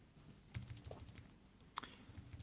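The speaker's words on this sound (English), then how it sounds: "you can potentially start typing really fast" Faint, quick taps on a compact wireless Bluetooth keyboard paired with a Nexus 7 tablet, a few irregular keystrokes close by with no talking.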